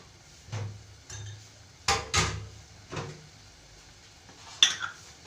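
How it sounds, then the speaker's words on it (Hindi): Lid set onto a cooking pot of matar keema, giving a few separate metallic clanks and knocks of utensils and cookware, spaced apart and fairly quiet in a kitchen. "अब 5 मिनट के लिए मैं इसको कवर करके रख रही हूँ।"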